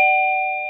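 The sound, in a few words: Daytech wireless door chime ringing when contact opened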